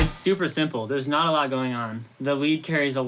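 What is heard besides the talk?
No everyday noise stands out behind the speech.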